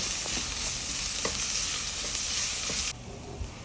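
Ginger garlic paste frying in a pan for cauliflower curry gives a loud, even, close sizzle, with faint stirring taps now and then, and it drops quieter near the end.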